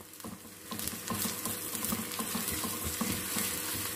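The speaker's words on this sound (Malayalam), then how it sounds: "ഇഞ്ചി ഇവ മൂന്നും കൂടി ചേർത്ത് നമുക്കൊന്ന് വഴറ്റാം" Onion, ginger and curry leaves sauté in hot oil in a pan for a Kerala fish curry, a steady close sizzle with repeated scraping and stirring taps throughout.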